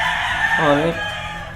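A gamefowl rooster crows once, a short throaty cock-a-doodle-doo over steady outdoor background noise and faint voices at a farm.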